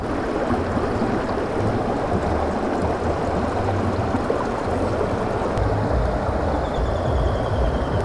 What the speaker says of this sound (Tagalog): Tanging lagaslas lang ng tubig ng ilog yung ating maririnig at mga huni ng ibon.